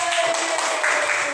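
A classroom group in Indonesia claps for a presenting team, giving a brief burst of scattered applause from several pupils, fairly close.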